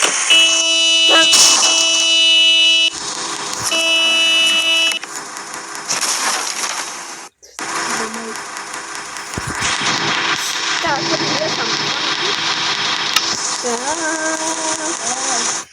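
A car engine in a video game cranks and catches in a cold winter setting, then runs with a droning tone and revs, loud and close, while a person talks over it.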